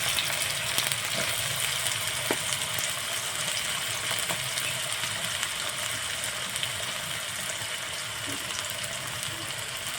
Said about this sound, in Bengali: প্রথমে আলুটা ভেজে নেব ছোটো ছোটো করে আলু কেটে নিয়েছি